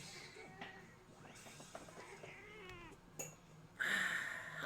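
Pet boy cat meowing indoors, a few short close meows and a drawn-out cry, with a louder sharp burst near the end.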